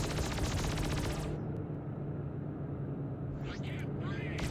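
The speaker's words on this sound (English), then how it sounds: "And notice how your cannons get quicker when your energy is up." Rapid ship cannon fire in the Freelancer Discovery space game, a dense continuous burst of shots that cuts out after about a second, leaving a low engine-like rumble and a few faint sci-fi zaps.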